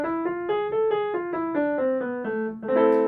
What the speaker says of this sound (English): So here's what the harmonic minor sounds like.